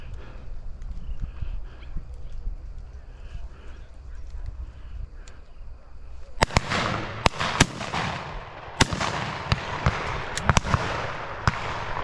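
Shotgun shots at pheasants during a November driven shoot on a farm, with sharp, loud blasts fired singly and in pairs over several seconds after a stretch of murmuring outdoor background. There may also be voices.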